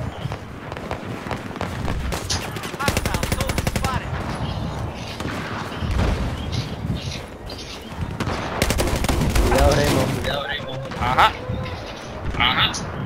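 Rapid gunfire bursts from Battlefield 4, with sustained automatic weapon fire and scattered single shots crackling loudly throughout, mixed with game explosions and noise while a voice talks over the action.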